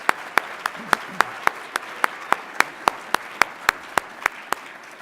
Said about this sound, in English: Can we give all of the presenters a nice round of applause, please?